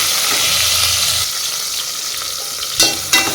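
Onions and home-grown tomatoes sautéing in a pan, a close, strong sizzle with stirring that eases partway through, then two short sharp scrapes near the end, with no speech.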